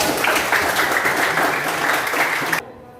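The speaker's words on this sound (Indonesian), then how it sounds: "Silakan dulu Nogul, tepuk tangan buat." A classroom of students claps together during an economics lesson, a dense, steady burst of applause that fills the room for about two and a half seconds and then stops abruptly.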